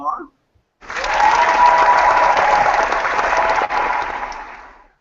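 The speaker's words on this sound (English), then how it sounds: "Let's give her a round of applause." Podcast audience applause bursts in after a brief voice, a dense steady wash of clapping lasting several seconds at close range before fading out at the end.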